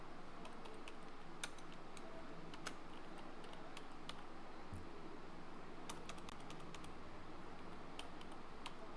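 Light, irregular clicks of keys being typed on a computer keyboard, soft and close, with no talking.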